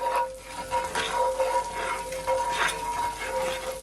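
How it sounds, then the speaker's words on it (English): Minced garlic sautés in melted butter in a single pot, a steady close sizzle and crackle with soft stirring scrapes, no voices. "I'm gonna add my garlic. I'm just gonna allow it to saute just for a couple of seconds."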